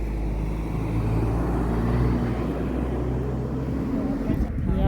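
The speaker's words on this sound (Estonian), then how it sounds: "Autopargis käib aktiivne sebimine ja toolibussid muudkui saabuvad." Shuttle buses and cars rumble through a busy mountain car park on the Hehuan peak trails, a loud steady engine drone close by, with a voice talking over it.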